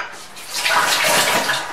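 Water pours steadily into a blender jar for a chutney for a couple of seconds, a bright splashing rush that swells in the middle, close by with no talking.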